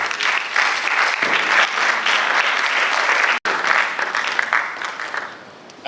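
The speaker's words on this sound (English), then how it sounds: "Clap." An audience applauds loudly at a reformers' alliance speech, a dense, sustained burst of clapping that briefly drops out, then carries on and slowly fades.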